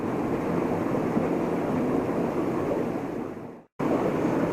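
Turbulent water churns below a spillway in a continuous loud broadband rush, briefly cutting out near the end before resuming at full strength.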